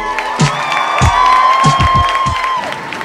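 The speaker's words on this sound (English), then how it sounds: "Please give a big round of applause for my man, Mr. Jo Koy." A street crowd in New York City cheers and claps, mixing loud whoops and shouts with scattered applause and sharp bursts that rise and fall over a few seconds.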